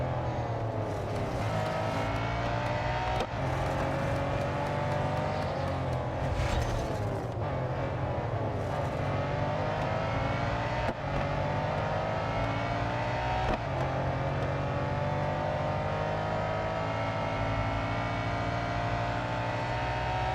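A race car in the Real Racing 3 mobile game drives hard, its engine revving up and down through gear changes in sweeping pitch glides, loud and continuous with no talk.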